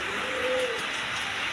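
Imported beauty pigeons coo softly in a single low, drawn-out call against a faint background hiss.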